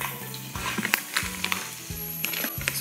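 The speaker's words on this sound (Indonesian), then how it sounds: "I'm gonna deep fry or shallow fry my golden fiesta spicy wing" Chicken wings and nuggets, golden spicy wings among them, fry in hot oil with a steady close sizzle and crackle, broken by a few sharp clinks and stirring noises, with no talk.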